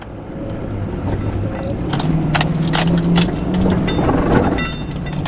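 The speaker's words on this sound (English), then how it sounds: "Here's a little bit of acceleration." A Chevy Silverado 6500 heavy-duty truck accelerates, its low engine note climbing in pitch and staying loud throughout, with rattling and jingling from the cab over a steady road roar.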